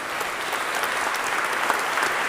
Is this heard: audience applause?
yes